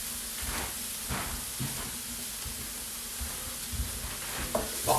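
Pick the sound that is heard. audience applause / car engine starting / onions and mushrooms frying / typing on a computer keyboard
onions and mushrooms frying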